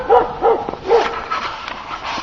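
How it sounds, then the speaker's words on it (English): A neighbor's dog barks repeatedly outdoors on a slick, icy driveway, three or four strong woofs followed by softer yelps and whines, fairly close and alone without talk. "Hello, annoying neighbor dog."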